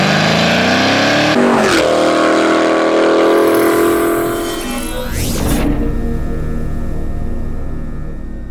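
Ford S197 Mustang GT V8 with Valvetronic Designs mufflers, exhaust roaring loud and close as it revs up, rising in pitch, then drops back to a lower rumble and climbs again with sharp throttle changes.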